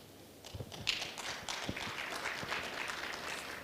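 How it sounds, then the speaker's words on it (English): Warm round of applause from an audience at a skills summit in South Africa, a steady wash of clapping that begins after a brief quiet and carries on evenly to the end at moderate loudness. "If you can kindly give them a warm round of applause."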